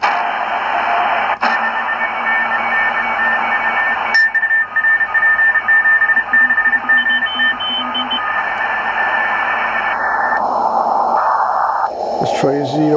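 Shortwave reception on an SI4732 receiver tuned to CW signals, with steady hiss and static and thin tone traces through a sharp filter. Tuning changes shift the noise, and short beeps come near the end.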